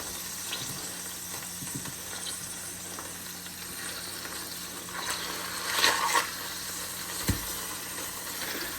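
Steak meat that is still partly frozen fries in oil in a pan at home, giving a steady close sizzle and hiss with occasional brief pops and stirring clatters.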